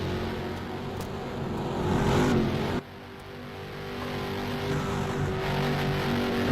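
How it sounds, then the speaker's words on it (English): Race cars pull out onto the track in a racing video game, a steady engine drone that swells and then drops sharply partway through before building again, with no talk over it. "Cars are now making their way out."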